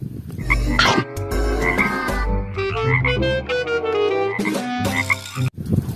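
A toy frog gives repeated croaking calls, loud and close, in a busy, continuous run that fills the whole stretch with harmonic, buzzy tones and no talking.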